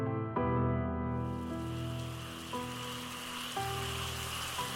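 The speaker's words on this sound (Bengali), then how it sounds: "ঝিরঝির করে এক টানা বৃষ্টির শব্দ" Steady light rain falls without pause, an even wash of patter on a surface, close and continuous, with soft tonal background notes underneath and no voices.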